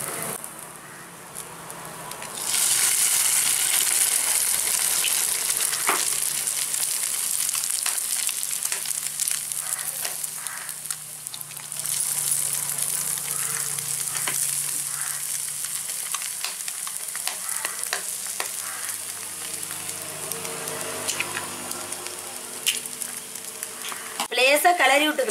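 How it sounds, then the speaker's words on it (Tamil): An egg cracked into cooked greens sizzling hard in a pan, a sudden loud burst of frying that keeps crackling steadily, with a few tapping sounds and a voice talking over it. "இப்போ நம்ம முட்டையை உடச்சி ஊற்றிக்கலாம்."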